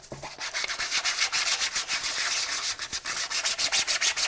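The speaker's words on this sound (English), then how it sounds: "It's time to start sanding it. And well, I'm going to take a 150 sandpaper for it." Close, steady rubbing of 150-grit sandpaper on a 3D-printed part, rhythmic back-and-forth strokes with a gritty, scratchy texture, loud and continuous without talk.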